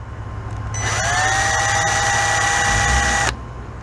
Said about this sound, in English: Once it starts drilling